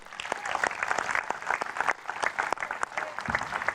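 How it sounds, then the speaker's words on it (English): A crowd applauds the winning player after the 2025 Australian Open women's singles final, a dense, close patter of individual claps rising and falling over a few seconds. "So just a round of applause for her, please."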